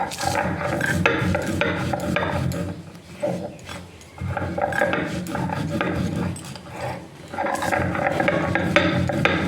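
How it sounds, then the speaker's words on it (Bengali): Dried red chili and cumin ground on a stone slab, a coarse rhythmic rubbing and rasping that runs steadily, pauses briefly twice, then resumes at close range. "এই যে আমি বেটে নিচ্ছি যে কালো তুলে শুকনো লঙ্কাটা জিরেটা আগে বেটে নিই একটু মিহি করে"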